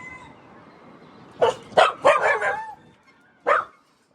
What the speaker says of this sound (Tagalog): May aso pala sila.